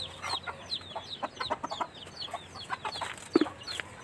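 Chicks and hens cluck and peep in a busy, irregular flurry of short calls, soft and fairly close, over a low background hum.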